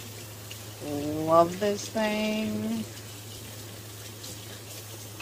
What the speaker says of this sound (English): Touchless faucet coming in handy.